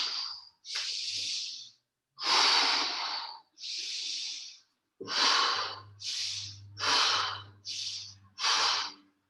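Forceful rhythmic breathing during a squat kriya in hatha yoga practice, about nine sharp nasal inhales and exhales in quick succession with brief gaps between them, close and loud, with a faint low hum underneath the later breaths.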